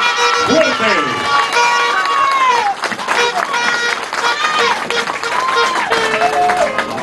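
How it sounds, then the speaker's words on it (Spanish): Crowd applause and cheering at a political campaign rally for La Fuerza del Pueblo in Río San Juan, loud and sustained, with shouting voices and whistle-like calls over the clapping throughout. "De pie todo el mundo, de pie, fuerte el aplauso, señores, que se siente ese aplauso, fuerte"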